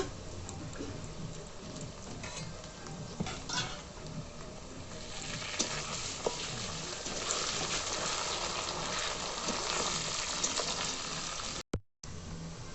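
A steady, crackling sizzle of onion and garlic frying in hot oil continues throughout, with tiny pops and no voices, ending in a brief cut.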